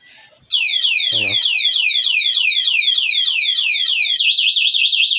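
A loud electronic e-bike anti-theft alarm suddenly starts blaring after the wheel is turned, a rapid warbling siren that keeps cycling, then shifts to a faster pulsing pattern near the end.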